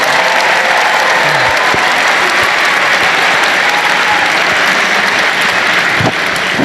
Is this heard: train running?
no